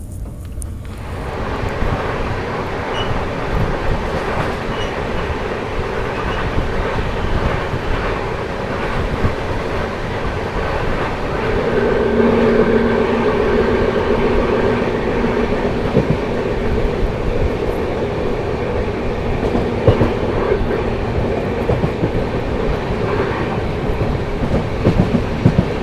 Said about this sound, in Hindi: सामने से आती हुई Nizamuddin MGR Chennai central Duronto express